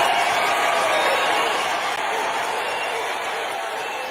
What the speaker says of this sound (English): People are standing now, clapping.